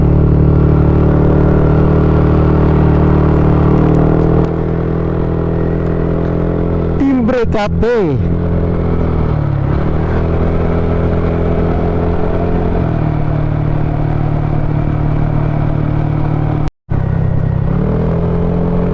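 A motorcycle's steady engine rumble fills the ride, with a brief sharp pass of another vehicle and a short dropout, while a rider speaks briefly over the noise.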